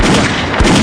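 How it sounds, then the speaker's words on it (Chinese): Anti-aircraft machine gun fire from a harbor defense against diving Mustang fighter planes: a brief, loud, dense burst of rapid booming shots close up, with no voices. "随后防空机枪还击"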